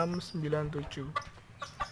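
A Batik chicken from Central Java clucks in a series of short, nasal calls, close by, followed by a few soft clicks and taps.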